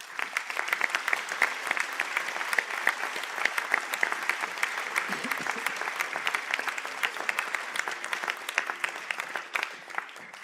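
Sustained applause from a conferring ceremony audience as science graduates stand, a dense crackle of many hands clapping at moderate distance, fairly even throughout with a few sharper claps.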